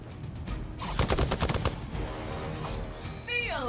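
Bursts of rapid video game gunfire in Marvel's Midnight Suns, a dense rattle of shots followed by a fading tail and whooshing effects.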